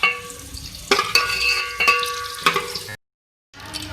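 Cauliflower pieces frying in hot oil for an aloo gobi gravy, giving a steady close sizzle with bursts of stirring and clinking utensil scrapes, then a brief silent gap before the frying resumes.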